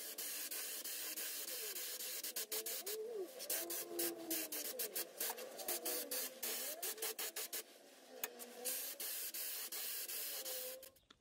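A spray gun hisses in repeated bursts of white paint over mahogany on a Gibson Les Paul Junior guitar, some short and some sustained, while birds chirp faintly in the background.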